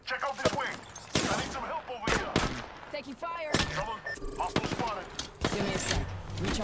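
Gunfire in Apex Legends played on a PS4 Pro, with loud repeated shots and bursts of fire spread across the whole stretch, mixed with game voice callouts.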